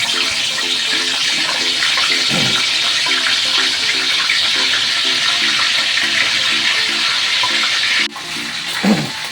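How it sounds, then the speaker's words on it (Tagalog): A loud, continuous hiss of spare ribs frying in oil fills the whole clip, with a faint repeating hum underneath and a brief clatter near the end. "Ay, iprito na natin."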